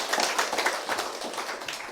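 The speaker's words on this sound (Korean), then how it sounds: "박수 한번 치시죠" An audience at a lecture for tree doctor exam candidates claps briefly, a short, moderately quiet patter of separate handclaps.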